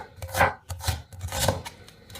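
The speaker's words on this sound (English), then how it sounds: "Now 1 onion, it can be a medium onion, and let's cut it like this way" A knife slices through a medium onion on a cutting board in a few close, soft crunchy strokes with a light board knock after each cut.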